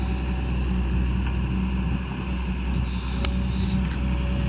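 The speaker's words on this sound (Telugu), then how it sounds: "మళ్ళీ దాన్ని కంప్రెషన్ పెట్టి తీసేయాలి. కంప్రెషర్ కూడా మాదే బండి." A truck-mounted air compressor running at a borewell during well digging, a steady low droning engine hum, fairly loud and continuous throughout, with faint clanks over it and no talking.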